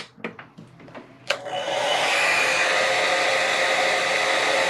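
Electric heater fan powered by a Bluetti EB70S portable power station, a few clicks of switching before it starts and runs as a steady, loud whooshing blow.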